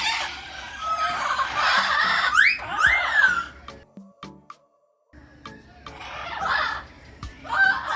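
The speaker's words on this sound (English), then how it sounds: "We visit their cousins, the yellow-headed parrots, who were in the middle of their lunch, and they seem to have their own party going on" Yellow-headed parrots at a zoo in Tuxtla, Chiapas, Mexico, calling noisily over their lunch: loud squawks and rising shrieks, a brief near-silent gap, then more raucous calls.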